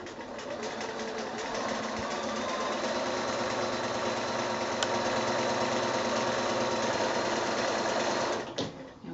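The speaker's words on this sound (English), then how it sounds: "then we're just going to stitch down close to the folded edge on both sides" Close and loud, a sewing machine topstitches near the folded edge of a small quilted bag made from six-inch squares, running in one unbroken, even hum for about nine seconds before a brief slowdown at the end.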